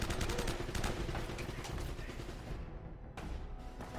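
Gunfire in Uncharted: Drake's Fortune, rapid automatic bursts of shots at moderate level that thin out near the end, with brief pauses between volleys.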